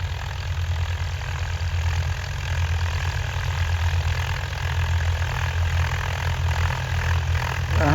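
An 855 tractor engine runs steadily during field ploughing, a constant low diesel drone with a faint harmonic hum that holds level and close for the whole stretch, with no voices.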